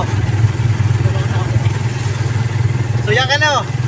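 A Kawasaki Barako motorcycle engine running while riding, a steady low throbbing drone throughout, with a short burst of warbling tonal sound near the end.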